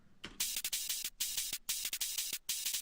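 A drum-and-bass hi-hat loop plays on its own: bright, tight, rapidly repeating hat hits in a driving syncopated pattern with short gaps, loud and dry.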